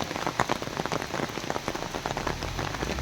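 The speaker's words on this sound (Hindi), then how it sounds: "बारिश शुरू हो गई है।" Steady rain patters densely on surfaces outdoors during the rainy season, a continuous close crackle of countless drops with no voices.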